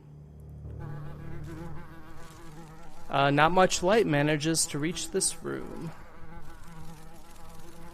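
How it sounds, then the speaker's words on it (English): A fly buzzes steadily in the video game The Last Door, a constant insect drone running through the clip while a narrator's voice speaks over it. "The fly buzzing noise would drive anyone insane, yeah."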